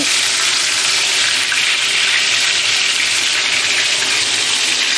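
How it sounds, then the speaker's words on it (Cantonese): Loud, steady sizzle of fish steaks frying in a hot pan over raised heat, a dense continuous hiss with no talking. "開翻大個火嚇，咁啊再煎一煎佢，升一升溫"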